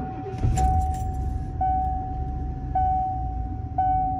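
Keys jangle in the ignition of a 1989 Ford F-250 XLT Lariat, followed by the low rumble of its big engine catching and running, with a steady tone persisting throughout.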